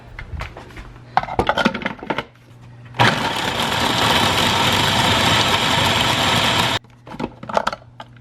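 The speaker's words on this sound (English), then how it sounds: "Now let's go food process this." A food processor blending a tonic, likely with turmeric, whirs loudly and steadily for several seconds, then cuts off sharply. Clatter from handling surrounds it.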